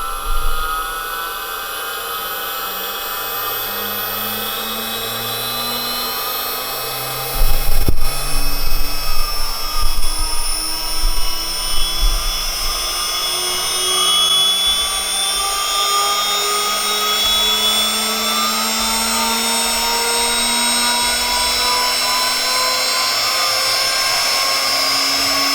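A CNC router spindle driven by a Vevor A2-8022 VFD spins up, its whine climbing steadily in pitch toward about 20,000 rpm, with a brief louder clatter early on, then a sustained high tonal drone.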